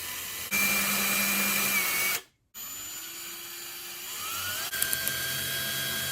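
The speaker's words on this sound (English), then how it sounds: "I'm going to cut out the wheel welds so the board and wheels have clearance and it doesn't get any wheel bite." A small power tool whines steadily and close while cutting wheel wells into a Tech Deck fingerboard. It stops briefly and then resumes with a rising pitch and a few short clicks.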